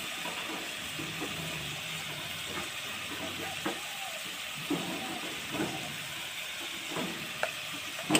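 Spices with turmeric sizzling and frying in a pan for a meat curry, a soft steady hiss with occasional stirring clinks and scrapes, faint and close.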